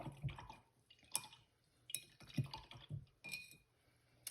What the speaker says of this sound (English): go ahead and rinse out your brush